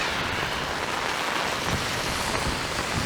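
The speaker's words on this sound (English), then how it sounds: "From light rain to heavy rain." Heavy rain pours down on a street in Upper Jarvis, downtown Toronto, a loud, dense, continuous hiss of drops hitting pavement with no break.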